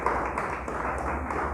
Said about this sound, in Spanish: Le damos fuerte el aplauso a Dios.